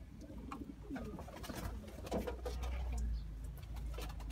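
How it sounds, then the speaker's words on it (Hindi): Soft, low coos of a Sialkoti pigeon repeat close by against a faint background hum and light rustling. "अभी नादर भाई ये जो आपने एक कबूतर इधर देखा है"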